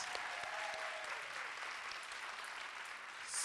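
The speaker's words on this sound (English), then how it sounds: "One more round of applause for all of our storytellers in this beautiful first act." Audience applause for storytellers at the close of a first act, a steady wash of clapping from a seated crowd filling the whole stretch, fairly soft and even with no talking over it.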